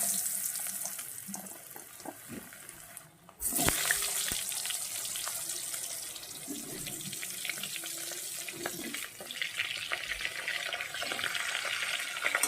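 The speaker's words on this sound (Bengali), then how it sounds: "এইবার ওই মাছ ভাজা তেলে আমি ভেজে নেব" Potato and cauliflower pieces fry in oil left over from frying a katla fish head, giving a dense, steady sizzle with crackles that drops briefly around three seconds, then returns louder and continues close up with no talking.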